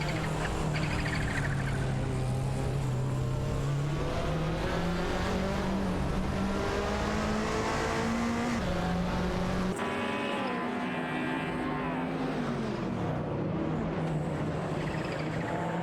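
Racing cars in an AI-driven racing game, including a Porsche and an Alfa Romeo battling for position, engines droning steadily at high revs with rising pitch and a gear change midway, continuous and loud.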